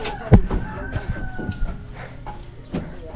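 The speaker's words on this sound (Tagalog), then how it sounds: "Manok na naman pumasok doon." Chickens cluck and a rooster crows nearby in short bursts, with a busy farmyard murmur underneath.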